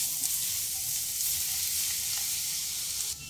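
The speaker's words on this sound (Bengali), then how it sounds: "2 টেবিল চামচ মতো তেল রেখে তেলের মধ্যে দিয়ে দেব 1 টেবিল চামচ গ্রেট করে নেওয়া রসুন" Grated garlic dropped into about two tablespoons of hot oil left from frying fish for chilli fish, giving a loud, steady hiss of sizzling that cuts off abruptly near the end, no talk.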